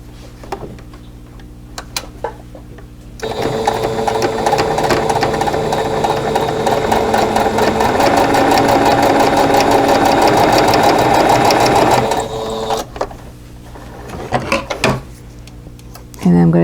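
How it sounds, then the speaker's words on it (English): A sewing machine stitches steadily along a drawn line on quilt block fabric, a loud continuous mechanical whir running about nine seconds, with faint handling noises before and after. "And then I'm going to sew right along that."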